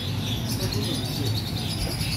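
Pigeons at a pigeon market chirp and coo faintly through a steady crowd murmur, their calls blended and continuous with no clear single call standing out.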